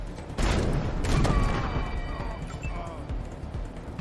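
A full borer weapon fires in Wasteland 3, a loud crashing blast of rapid impacts that swells and then rumbles on with a ringing tail for a few seconds.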